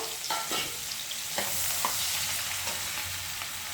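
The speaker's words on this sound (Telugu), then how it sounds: "అదే కడాయిలో ఉల్లిపాయలు వేసుకుందామండి." Onions sizzle and fry in a kadai for egg pulusu, a steady close hiss with a few scraping stirs and no voices.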